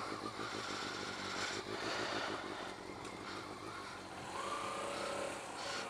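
Honda CBR400 motorcycle being ridden at night, a steady droning engine with wind noise throughout, heard continuously from on the bike.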